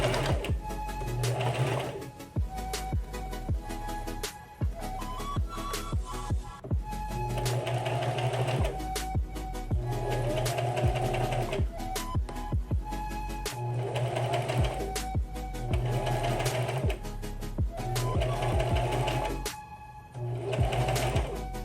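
A sewing machine stitches the collar of a Jedi outer tunic in repeated runs, a rapid mechanical whirr with a steady rhythm, close and loud, stopping briefly between passes.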